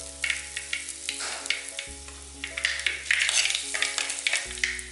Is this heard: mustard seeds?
yes